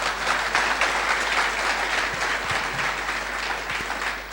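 An audience at a motivational talk bursts into steady, dense applause that carries on evenly throughout, with no voices over it.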